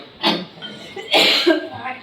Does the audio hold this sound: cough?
yes